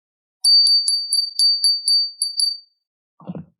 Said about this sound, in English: ring the bell, let them know